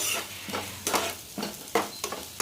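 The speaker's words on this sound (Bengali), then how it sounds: "এখানে দিয়ে দিচ্ছি একটু গরম মশলা এগুলোকে ভালো করে একসঙ্গে সঙ্গে ভেজে নিচ্ছি" Onion frying with garam masala in a pan, stirred in a steady rhythm of scraping strokes about every half second over a soft sizzle, close by, with no talk.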